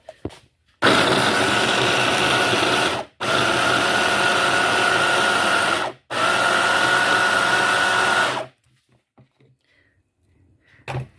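A kitchen blender chops zucchini with onion and garlic in three loud, steady whirring bursts of about two to three seconds each, separated by brief pauses, then falls quiet.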